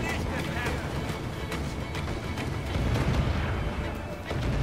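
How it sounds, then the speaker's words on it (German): Ship cannons in the video game Assassin's Creed IV Black Flag fire in a rough, continuous barrage of booms and blasts during a naval battle, with a voice shouting orders over the heavy rumbling noise. "Kanonen sind bereit! Sind bereit, Feuer!"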